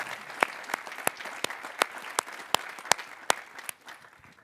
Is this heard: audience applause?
yes